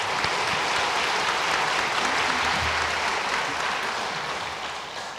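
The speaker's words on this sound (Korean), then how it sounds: "우리 두 분 자리에서 일어나시면 우리 큰 박수로 격려하며 축하하겠습니다" A church congregation gives sustained, loud applause to honour two members being congratulated during a Sunday worship service, a dense wash of clapping that holds steady and then eases slightly toward the end.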